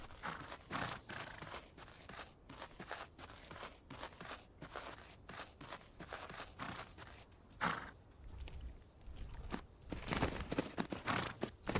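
Horse hooves clop in a steady walking rhythm on the ground in the horse-riding game Tales of Rein Ravi, irregular crunchy steps close by with a few louder strikes near the end, no talking.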